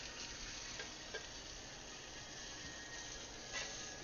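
A steak sizzles gently in butter in a pan while being basted: a faint, steady hiss with a few soft spoon clinks and spatters, no voices.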